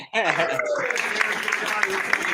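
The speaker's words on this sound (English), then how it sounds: "AOC, is that AOC over there clapping?" Steady crowd clapping and scattered cheers, with a voice briefly rising over the applause at the start.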